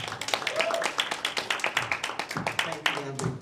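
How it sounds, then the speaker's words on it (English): Applause from an open mic audience at a Black History event in a Norristown library, welcoming a performer: scattered clapping from a small crowd with voices and chatter mixed in throughout. "You guys, please welcome with a warm round of applause"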